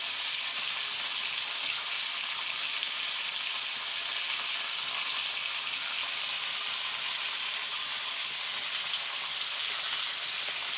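Stone fish (kal meen) fries crispy on a dosa griddle, a loud, steady crackling sizzle that fills the whole stretch without pause or talk.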